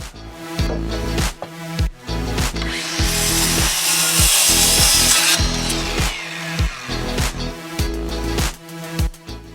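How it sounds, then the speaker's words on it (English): Rough scraping and rubbing on rough scrap wood in repeated sanding strokes, close up, with a steadier stretch of continuous grinding in the middle; no talking. "So that's where the sanding is going to become necessary."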